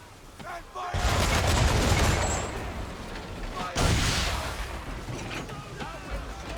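A volley of gunfire erupts in a battle scene, two loud broadband bursts of massed shots with rattling mechanical noise, the second slightly weaker, falling back between them.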